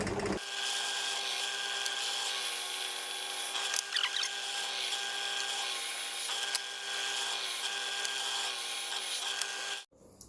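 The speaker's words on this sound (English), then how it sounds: "I don't know what it is about drilling, but I just find it very, very soothing" Steady whirring drill boring into a scaffolding board, running continuously and loud at close range for nearly the whole stretch before cutting off abruptly at the end.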